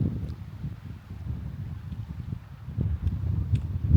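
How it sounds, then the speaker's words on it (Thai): Wind and flowing water near a snowy hotel in the Dolomites make a low, gusty rumble that buffets the microphone, rising and falling in uneven surges with no voices. "เสียงน้ำกับเสียงลมนะครับ"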